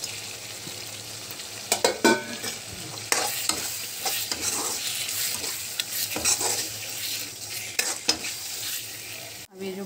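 Fried potatoes tipped into a pan of roasted spices for a Chhattisgarhi rakhiya bari (ash gourd and lentil dumpling) curry sizzle steadily while a spoon stirs and scrapes, with intermittent louder scrapes and clinks over a continuous frying hiss throughout, close up, no speech.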